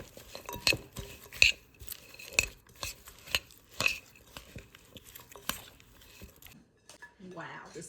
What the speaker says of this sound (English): And I guess we just stir it around.